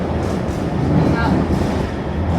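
Barcelona metro train riding, a steady close rumble and roar of the carriage in motion with constant broadband noise and no break.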